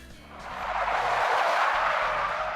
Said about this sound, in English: Our car swerves right and left in order to avoid a crash.